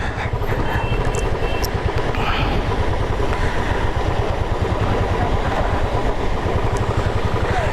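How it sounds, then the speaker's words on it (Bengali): Roar of the large Rupse waterfall in Nepal, a steady, loud, dense rush of falling water that holds without pause from start to finish. "এই বিশাল ফলস।"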